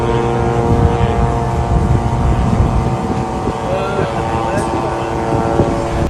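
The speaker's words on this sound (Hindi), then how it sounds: "वहीं गाजा में इजराइल के ड्रोन 24-24 घंटे आसमान में उड़ते" Israeli military drones fly over Gaza, a continuous droning engine hum with steady tonal layers that stays loud and constant throughout, with no break.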